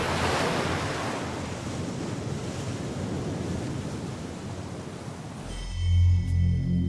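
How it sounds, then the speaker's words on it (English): Heavy sea surf roars in a loud, continuous wash with wind-like hiss, evoking the Red Sea waters crashing back, before giving way to a deeper rumble and sustained tones near the end. "Pharaoh's army is drowned by the returning waves."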